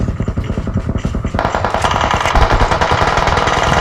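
Rapid automatic gunfire in the mobile shooter PUBG Mobile, loud and continuous bursts that thicken into a dense barrage of overlapping shots after the first second or so, with no talk.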